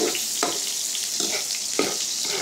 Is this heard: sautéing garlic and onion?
yes